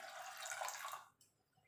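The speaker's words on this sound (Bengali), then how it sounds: "এবার দিয়ে দেব জল।" Water is poured into a pressure cooker as lentils cook, making a faint, steady splashing stream for about a second before it stops and a quiet drip follows.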